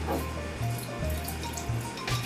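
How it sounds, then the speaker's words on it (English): Cold beer with ice is poured into tempura batter for shrimp, a steady liquid pour and fizz with low thumping knocks underneath, close and moderately loud. "you actually pour off your beer"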